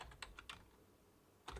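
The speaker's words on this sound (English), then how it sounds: "I'm going to start my function again by pressing the equals" A few light clicks on a computer keyboard while entering an Excel formula, with a short burst of keystrokes and then a single tap after a pause, faint and close in a quiet room.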